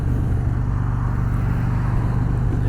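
Indian Roadmaster Dark Horse motorcycle engine running steadily with smooth throttle, a continuous close, loud low rumble heard from the rider's position with road and wind noise mixed in.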